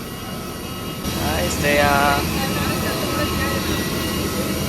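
A jet airliner on a domestic flight to Bangalore hums steadily inside the cabin, a loud constant roar with a whining tone that swells slightly while a voice speaks over it.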